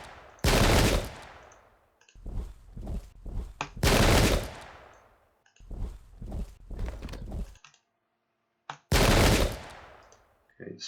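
Musket volleys from Pike and Shot musketeers, a 17th-century battle game, crack out as loud, rolling bursts of gunfire. Several heavy rattling salvos are separated by brief quiet gaps.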